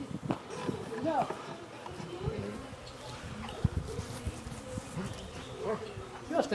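A swarm of honeybees buzzing close around a building wall while a catch is readied for moving, a dense, continuous drone under people talking.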